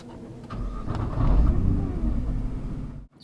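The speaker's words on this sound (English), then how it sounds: "Do you hear the shuddering as the car comes to life?" Deep, rough rumble of a 2020 Nissan GT-R Nismo engine shuddering as it starts, swelling into a heavy low throb for about a second and a half before cutting off abruptly.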